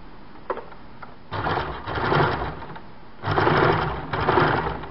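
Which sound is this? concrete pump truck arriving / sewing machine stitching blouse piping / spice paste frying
sewing machine stitching blouse piping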